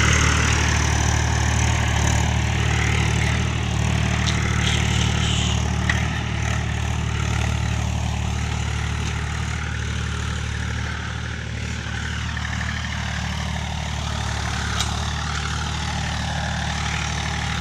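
Mahindra 265 tractor working a cultivator at full depth in a field, its diesel engine droning steadily and loud throughout with a low, constant rumble under load, no talk.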